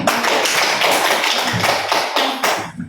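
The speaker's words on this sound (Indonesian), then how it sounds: "Oke, berikan aplaus dulu." Applause from a classroom of students: dense, steady clapping that fills the room and runs for a few seconds before tapering off at the end.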